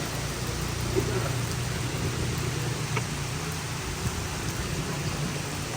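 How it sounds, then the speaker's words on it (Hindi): Dense, steady hiss of heavy rain pouring continuously, with a low rumble underneath and no pauses. "बारिश बहुत ही तेज होने लगी है"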